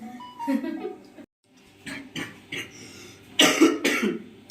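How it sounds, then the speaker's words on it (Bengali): A person with a lingering winter cough coughs in a few harsh bursts after a stretch of quiet talking, the later bursts loud and close. "কাশিটা কমছে না"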